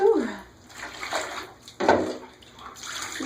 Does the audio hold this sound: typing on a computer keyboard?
no